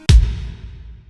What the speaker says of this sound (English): I just added another kick, but with a lot of reverb on it